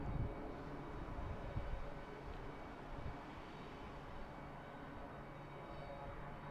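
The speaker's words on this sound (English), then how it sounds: "I hear another engine started up there with the terminal." An airliner engine spooling up at an airport terminal gate, a distant steady roar and whine over a broad rumble that holds evenly throughout with no talking.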